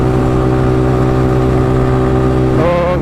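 A Yamaha MT-15 motorcycle fitted with an Akrapovic exhaust is ridden in the hills, its engine a loud, close, steady drone that rises sharply in revs near the end.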